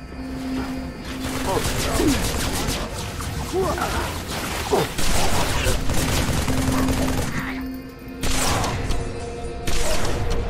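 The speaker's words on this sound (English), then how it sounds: "That turret has us pinned. We can't advance." Turret gunfire rattles in rapid sustained bursts in Halo 3: ODST, with loud shots, whooshes and impacts that pause briefly and resume, under in-game voices shouting orders.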